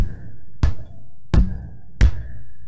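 Three sharp knocks on a Logjam Prolog, a wooden stompbox with a piezo pickup, struck by hand at roughly even intervals. Each hit brings a thumpy low attack with a brief woody ring, close and clear with quiet gaps between.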